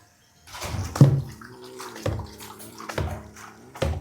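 Water sloshing and splashing in a basin or tub while a pet gets a flea bath, with a few sharper splashes over a steady watery wash, close by.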